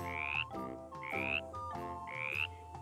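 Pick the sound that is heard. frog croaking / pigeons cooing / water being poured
frog croaking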